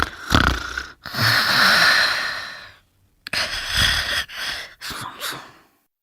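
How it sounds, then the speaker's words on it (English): A person snores in two long, rasping breaths separated by a short pause, close and fairly loud, with wheezy, gasping textures. "Snore."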